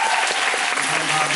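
A theatre audience at a musical's final curtain call applauds the staff with loud, thick clapping that fills the whole brief moment.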